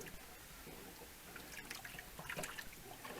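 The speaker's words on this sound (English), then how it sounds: "Now we're just going to give this a really good stir." Lasagna soup with canned tomato stirred in a pot, giving a steady wet sloshing and trickling, with soft scrapes rising slightly toward the end.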